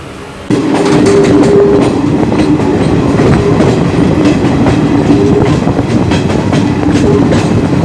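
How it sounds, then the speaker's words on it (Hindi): An Indian Railways train rolls through the Saranda jungle past Bimalgarh station, a loud, close, continuous rumble with rhythmic wheel clatter starting abruptly after a brief quieter moment. "देखिए हमारी भारतीय रेल जंगलों के ठीक बीचों बीच बढ़ती हुई"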